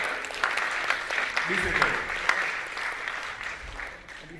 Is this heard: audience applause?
yes